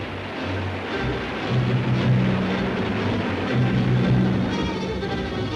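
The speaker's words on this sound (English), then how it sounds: "Britain's warplanes are winging their way to Egypt" British warplanes from 1956 drone overhead with piston aircraft engines in a continuous, wavering roar that swells and eases, heard on an old newsreel-quality recording without speech.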